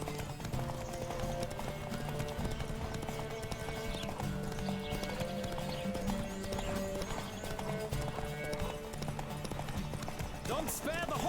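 A horse in The Witcher 3 gallops with rapid, continuous hoofbeats and neighs in between, over steady game background sound while people talk.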